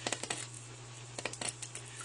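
A fillet knife catches along the top of a largemouth bass's rib cage, making a string of small, sharp ticks and clicks in irregular clusters. Close and quiet, over a low steady hum, with no talking.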